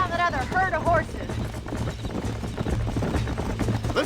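Horse hooves clip-clopping in the Western video game Red Dead Redemption, a steady close rhythmic trot under game music, with a brief whinny-like tone at the start.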